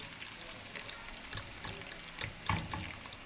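Pieces of taro (arvi) fry in oil over a wood-fired stove and are stirred. A faint, steady sizzle is broken by several soft clinks and scrapes of the spoon in close succession.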